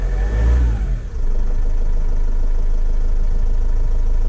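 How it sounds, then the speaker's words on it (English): A Vivaro/Trafic 2.5 dCi diesel van with an EGR valve fault revs up close by, a loud rising engine roar that drops back to a steady rough diesel idle clatter. "hang on. Let me rev it."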